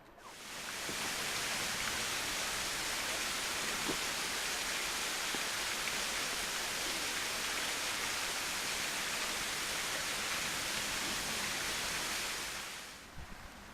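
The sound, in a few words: waterfall near Craigneith Castle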